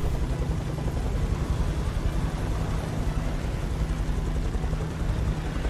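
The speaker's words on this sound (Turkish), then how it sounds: "Evet şu an aa helikopter geldi." A helicopter in the video game Beyond: Two Souls thunders overhead as a steady, loud rotor drone with a low chopping pulse, unbroken throughout and with no voices.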